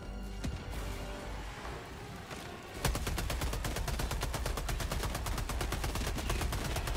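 Rapid automatic gunfire from Helldivers 2 hammers a chainsaw robot. A steady stream of closely spaced, loud shots begins about a third of the way in and continues unbroken after a stretch of rumbling battle ambience.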